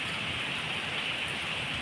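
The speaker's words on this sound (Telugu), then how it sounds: "హైదరాబాద్లో వాన" Rain falls steadily in Hyderabad, a faint, even hiss of drops on surfaces with no voices.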